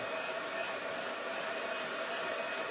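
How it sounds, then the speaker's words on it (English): A hair dryer blows steadily on a shirt, a constant close whooshing roar with no break. "We're going to give this a good blow dry."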